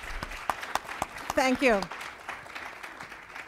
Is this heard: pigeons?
no